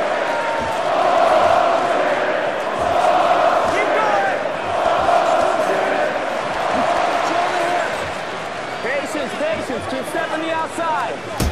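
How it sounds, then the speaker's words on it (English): Crowd at an amateur MMA-style fight booing and jeering steadily, a loud sustained roar of many voices that swells and dips, with a commentator's voice talking over it. "Some serious boos from the crowd here"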